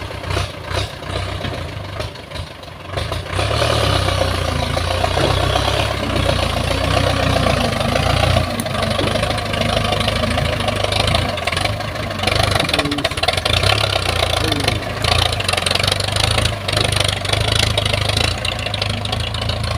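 A Ford New Holland tractor engine runs loud and close, a heavy low diesel rumble that rises after a short lull and holds steady under the throttle for the rest of the stretch, with no talk.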